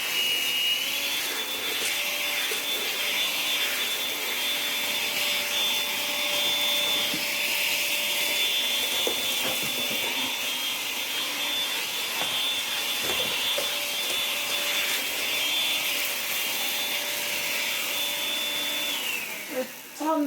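Cyclonic vacuum cleaner running on a hard floor, a loud continuous whine with steady airflow roar and occasional knocks as the head moves, unbroken until it winds down at the end.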